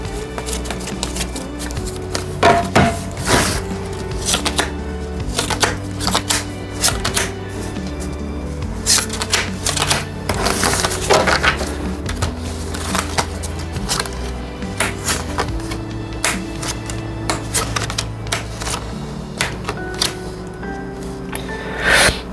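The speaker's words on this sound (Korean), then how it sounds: "총 6장의 카드 뽑으러 가겠습니다." Tarot cards are shuffled and drawn for a reading as six cards are picked: a steady run of soft card riffles, slides and taps over a sustained musical background, with no one speaking.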